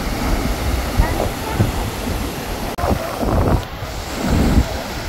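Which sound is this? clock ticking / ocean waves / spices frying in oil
ocean waves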